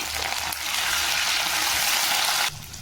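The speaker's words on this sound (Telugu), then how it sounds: "నేను దాంట్లోనే కరివేపాకు వేస్తున్నాను." Curry leaves hit hot oil in a pan of frying dried shrimp and give a loud, steady hiss of spitting oil. The sizzle drops away abruptly near the end.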